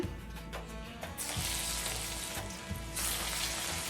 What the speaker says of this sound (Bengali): এগুলো ভেজে নিব একে একে করে